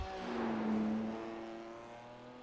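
A BMW M4 GT3 race car engine in a racing video game at the Nürburgring drones steadily and loudly near at hand, its pitch rising then easing back, with no talk over it.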